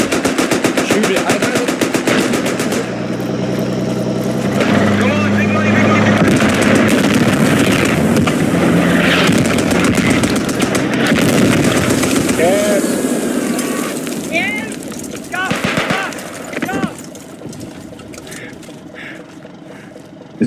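Continuous heavy gunfire aimed at a tank in the World War I shooter Beyond The Wire, dense rapid bursts and booms filling the whole stretch, loud and close, with shouting voices mixed in the chaos.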